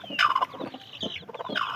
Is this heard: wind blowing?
no